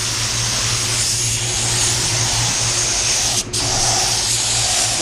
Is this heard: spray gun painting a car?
yes